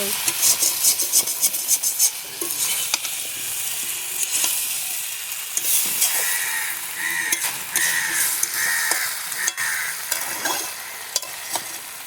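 Dried fish curry is stirred and sautéed in a pan, giving a loud continuous sizzle with repeated scraping strokes of a spatula, close up and with no talking.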